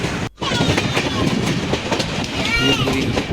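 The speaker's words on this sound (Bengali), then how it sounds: "বাঁধের উপর দিয়ে ট্রেন যখন পাস করছিল" Passenger train crossing the Farakka barrage, heard from on board as a loud, steady rumble with rhythmic clickety-clack of wheels over rail joints, briefly interrupted near the start, with faint voices underneath.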